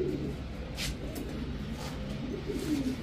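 Pigeons coo at a pigeon market: soft low cooing repeats from several nearby birds over a steady crowd murmur, with no clear speech.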